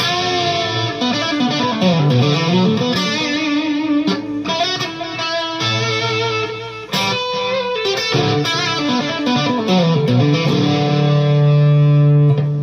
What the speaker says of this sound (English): There we go, some echo.